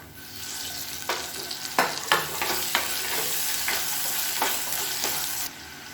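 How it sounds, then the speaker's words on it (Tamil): Onion, tomato and ginger garlic paste sauté in a pan for dal biryani, giving a steady close sizzle broken by several sharp spoon stirs and scrapes. "வெங்காயம் தக்காளி நல்லா வதங்கிட்டு இருக்கு."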